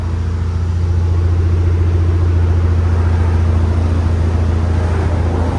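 A Kia Stinger with a 2.0-litre turbo engine idles steadily, giving a loud, close, even low rumble with a constant drone and no revving throughout.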